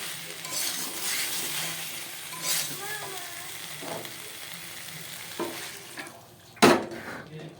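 Soybean curry sizzles steadily in a pan while a spoon scrapes and stirs; near the end, water is poured in and the pan flares in a sudden loud hiss before settling.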